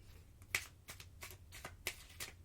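Tarot cards being riffle shuffled by hand, a series of quick crisp ruffling bursts and soft snaps repeating about every third of a second, close and fairly quiet with no voices.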